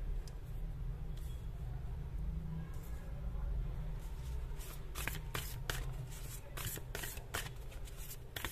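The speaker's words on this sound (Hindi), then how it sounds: "एक कार्ड हम यहां से निकालेंगे, फाइनल कार्ड" Tarot cards are shuffled by hand, with soft riffling early on and then a run of sharp, quick card snaps near the end, while a voice speaks quietly under the sound.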